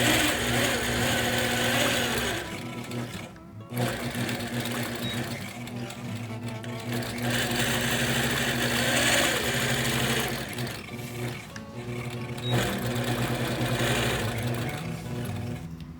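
A long arm quilting machine stitching in the ditch runs with a steady, loud mechanical whir and rapid needle rhythm, pausing briefly twice before resuming.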